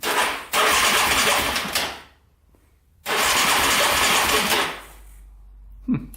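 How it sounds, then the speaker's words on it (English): Starter on a Yamaha Raptor 700 ATV cranks the engine in two loud bursts of about one and a half seconds each, separated by a near-silent pause, heard close up without a start. "Looks like we'll just push the start button."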